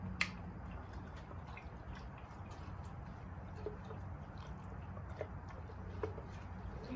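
OxiClean is stirred into a pot of boiling water, giving soft bubbling and faint scattered clicks and drips against a low simmering rumble, quiet and close.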